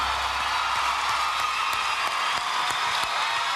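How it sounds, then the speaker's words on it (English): Steady, dense applause from a live television talent show audience, many hands clapping continuously and fairly loudly with no break. "And the audience applause,"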